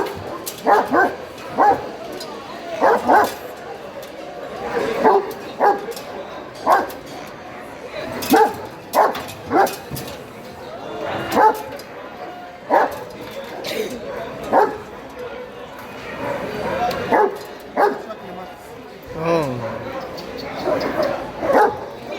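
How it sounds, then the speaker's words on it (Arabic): A fierce wolf dog barks in repeated sharp bursts at an irregular rhythm, loud and close outdoors, with some whimpering and someone talking between the barks. "كلب ولف، كلب شرس زي ما انتم شايفين اهو"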